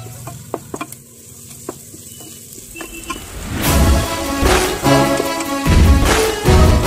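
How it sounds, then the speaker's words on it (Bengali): Masala and capsicum fry in a pan, starting with scattered light taps and clicks of a spoon, then swelling into a loud, close sizzle with vigorous stirring scrapes. "ক্যাপসিকাম দিয়ে ভালোভাবে এর সাথে মিশিয়ে নেব।"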